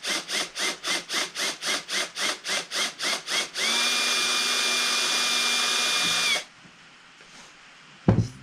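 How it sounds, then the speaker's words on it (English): A power drill runs in a dozen short pulsed bursts, then holds one long steady whine as it drives a screw into a knife sheath, stopping abruptly with a brief clunk near the end; loud and close, no talk. "so I can get the screw started."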